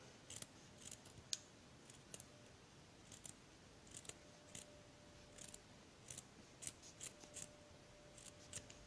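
Scissors snip around sewn fabric pieces for a small Easter bunny craft, giving a quiet, close series of crisp clicks and cuts at an irregular, unhurried pace with no talking.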